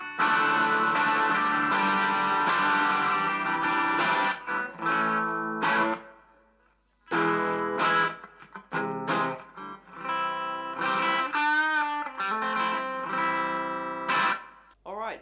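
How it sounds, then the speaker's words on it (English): Artist LP59 electric guitar played through a Nu X amp on a crunchy clean setting with reverb, strummed chords and single-note runs ringing out loudly, with a brief pause near the middle and sustained notes decaying into reverb. "Also quite like the crunchy clean sound with the reverb on it as well."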